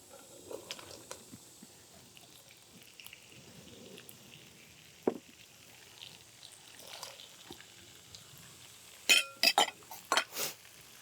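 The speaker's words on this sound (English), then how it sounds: "add those to our pan with the olive oil" Zucchini and yellow squash land in a pan with olive oil: a quiet stretch, then a burst of close clinks and clatters near the end, with a faint sizzle underneath.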